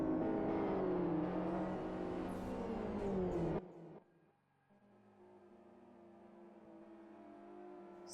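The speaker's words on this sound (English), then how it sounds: "Some cars in the back still passing through the chicane." Racing cars in a GT Masters racing game drone loudly through a chicane, then the engine sound cuts off abruptly and a quieter, steady engine hum follows.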